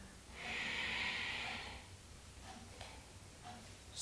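During a slow breathing exercise, a person gives one long, audible exhale through the mouth lasting over a second, followed by quieter breath and soft movement sounds.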